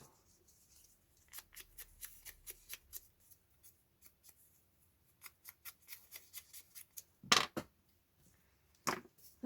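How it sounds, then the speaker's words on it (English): Scissors snip envelope paper to trim it shorter, a run of quiet crisp cuts in quick bursts followed by two louder, sharper rustling snips near the end, with no talking. "I will snip it shorter."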